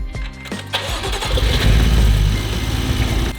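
A BMW F80 M3 engine cranks over on the starter during a compression test, its steady low churning loud and close, continuing alone for several seconds without catching.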